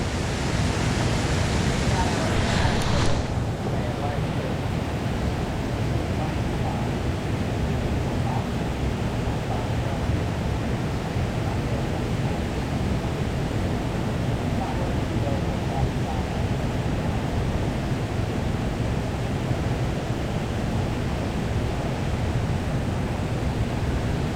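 A waterfall's steady rushing roar, loud and continuous, with the current churning where anglers fish for walleye, sauger and crappie; a brief brighter hiss at the start before the broad wash settles.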